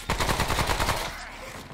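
Rapid automatic gunfire from the player's weapon in the video game Remnant: From the Ashes, a fast loud burst of repeated shots for about a second before trailing into echo and ambient noise.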